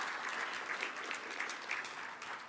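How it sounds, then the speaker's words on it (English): A graduation ceremony audience applauds steadily for the full stretch, a dense, even wash of many hands clapping at moderate volume with no voices rising above it. "Round of applause."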